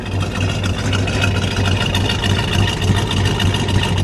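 The 440 V8 engine of a 1970 Plymouth GTX idles with a steady, deep exhaust rumble, loud and close, holding an even throb throughout.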